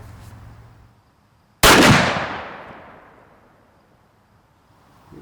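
A single loud blast from a T/C Encore muzzleloader rifle goes off close by, then a long rumbling echo decays over several seconds amid outdoor quiet.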